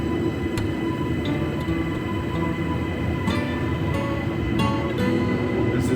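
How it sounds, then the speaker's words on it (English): An electric passenger train departs Dakabin station, a steady low rumble and whine with occasional faint clanks as it pulls away, no talking. "This is the Dakabin train."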